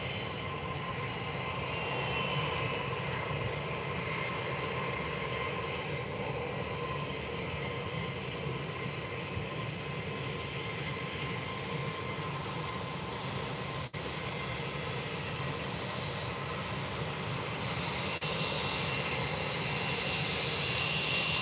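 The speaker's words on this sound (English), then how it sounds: "we've also have a Luxair 737 now taxiing" A Luxair Boeing 737 taxis at Faro Airport, its jet engines giving off a steady, continuous roar that holds at an even level throughout, with no voices.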